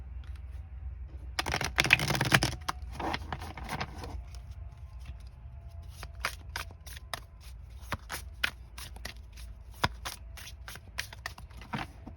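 A tarot card deck is shuffled by hand: a quick riffle burst early on, then a run of crisp, close card taps and flicks, alone in a quiet room.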